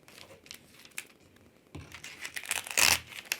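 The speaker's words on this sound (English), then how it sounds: "And I'm going to pull down on my tape, and then I'm going to push up because I want all the wrinkles out." Adhesive craft tape is pulled down and smoothed by hand to press out wrinkles, with soft crinkling and rubbing, then a brief, louder tearing rasp near the end, close and quiet with no talk.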